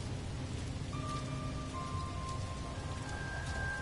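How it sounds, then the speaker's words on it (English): Steady rain falls in the video game No Man's Sky, a constant wash of drops on surfaces with faint tonal hums layered over it, no speech. "let me get out of this freaking rain"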